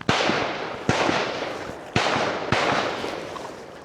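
Four sharp gunshot-like bangs ring out from a distance across a river during a solo kayak trip, each followed by a long rolling echo that decays slowly, spaced irregularly about a second apart.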